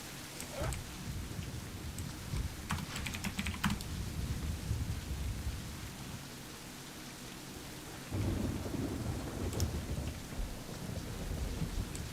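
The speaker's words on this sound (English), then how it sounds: "burning buildings in, like, a giant thunderstorm" A giant thunderstorm over burning buildings in the Warhammer Vermintide video game: steady hissing rain under deep rolling thunder, with a heavier rumble swelling near the end and faint keyboard-like clicks scattered through.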